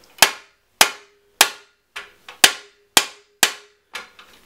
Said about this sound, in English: then we're going to strike it with a hammer